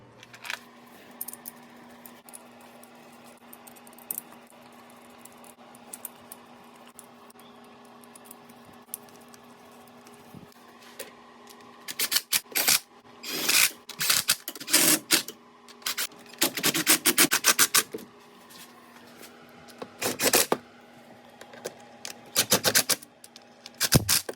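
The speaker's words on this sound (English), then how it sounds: "now I'm going to start putting all the 10mm bolts in and snug them up" On a 5.7 HEMI engine in a Dodge, 10mm bolts are snugged down with a ratchet, quiet handling at first, then repeated close bursts of rapid ratchet clicking with short pauses between.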